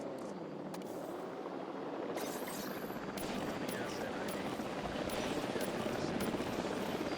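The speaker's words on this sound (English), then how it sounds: "I love this convoy of helicopters just going back and forth." Convoy of helicopters in Jurassic World Evolution 3, a continuous rotor whir and thump rising slightly in level, with a person talking over it.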